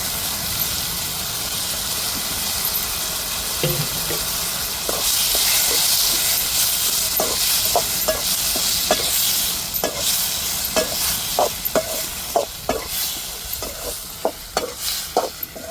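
Ginger-garlic paste sizzles and fries in a pan with eggplant, onions and chillies for a tamarind crab fry, a steady hiss broken by repeated sharp scraping stir strokes that quicken in the second half, with no talking.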